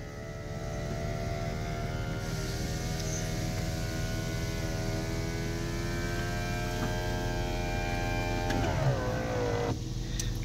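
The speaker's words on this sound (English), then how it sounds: "I'll put the convertible top up so you can see that." A car's convertible top being raised gives a steady electric motor hum with layered tones that holds for several seconds, then changes pitch and stops with a small clunk near the end.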